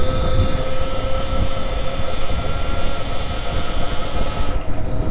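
An electric chopper motorcycle cruises down a neighborhood street, giving a steady loud hum with a constant whine and road rumble beneath, close and continuous throughout, with nobody speaking.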